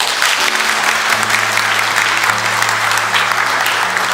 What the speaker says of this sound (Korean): 여러분 두 분 선생님께 존경의 큰 박수를 부탁드립니다